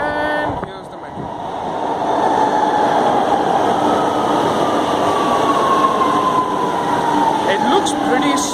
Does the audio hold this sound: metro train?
yes